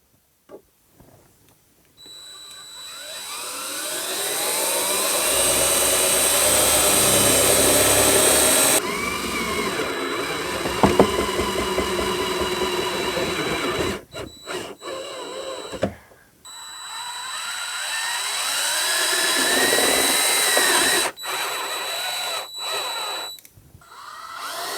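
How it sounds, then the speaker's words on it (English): A power drill driving self-drilling screws into a custom car dashboard whines in long sustained bursts, pausing briefly between runs, close by and loud, with no talking. "I'm just going to use some self-drilling screws to get everything mounted temporarily"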